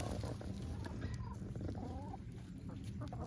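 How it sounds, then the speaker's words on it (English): Soft clucking from chickens nearby, a few short scattered calls over a low background rumble, fairly quiet. "Oh, the chickens are out"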